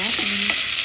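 Onion and garlic being stirred in a frying pan, a steady bright sizzle with a few scraping strokes of the utensil through the pan, close and continuous throughout.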